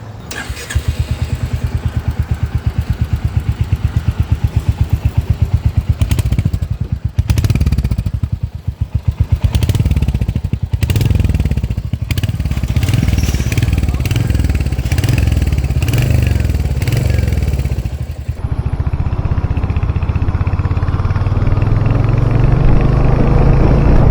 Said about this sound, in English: It's sounding like a sporty thump and not the older Royal Enfield